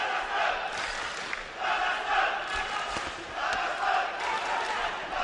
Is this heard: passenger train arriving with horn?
no